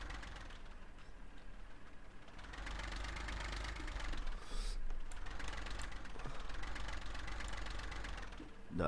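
In Farming Simulator 15, an old tractor engine idles with a steady, low, rumbling chug that holds for several seconds at moderate loudness, with no talking over it.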